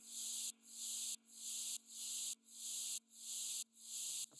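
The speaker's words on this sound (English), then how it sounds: "So some white noise, which is in just the verses." Bright, hissy white noise pulses in a steady rhythm, swelling and cutting off about seven times over a faint low drone.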